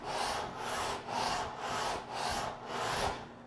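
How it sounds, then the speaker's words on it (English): Wood being sanded by hand with 80 grit sandpaper wrapped on a wooden block to flatten a bench stretcher edge, six rhythmic back-and-forth rasping strokes, close and fairly loud. "you can use a block of wood and some 80 grit sandpaper"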